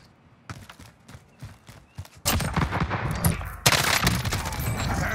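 Rapid gunfire from an M13 rifle in Call of Duty on Rebirth Island, with sparse shots at first and then dense bursts of loud automatic fire, close and sharp.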